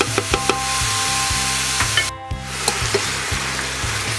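Meat frying in a pan with ginger and garlic, a steady close sizzle with a few sharp clicks and scrapes from stirring, broken briefly by a short pause midway.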